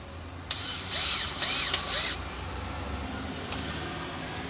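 A power drill drives screws in short, close bursts: about three whirring spurts in quick succession, then a brief faint blip over a quiet hum of background noise.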